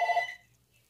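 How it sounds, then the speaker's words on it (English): A telephone gives one short ring, faint and trailing off quickly into near-silence, heard alone without talk. "Stupid phone."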